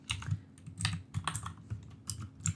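Code being typed on a computer keyboard, quick irregular clusters of soft, close key clicks with brief pauses between bursts.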